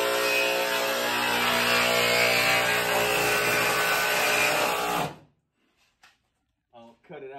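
A power tool cuts a hood vent opening into the hood of a turbo B-series EG time attack car. The cutting is a loud, steady, whining grind for about five seconds, then stops abruptly, leaving faint scattered sounds.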